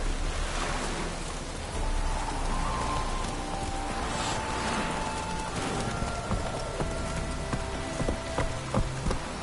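Steady rain falling in The Witcher 3 video game, a dense hiss of drops on surfaces with wind, continuous and fairly loud, with faint scattered tones and knocks over it.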